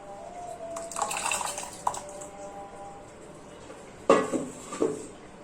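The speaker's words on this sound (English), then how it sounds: "So I will pour all the soybean in this water." Dry soybeans are poured into a pot of water in a home kitchen, giving bursts of rattling, clattering grains and splashes in two main pours separated by a quiet pause.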